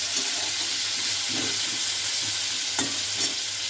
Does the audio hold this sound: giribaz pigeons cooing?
no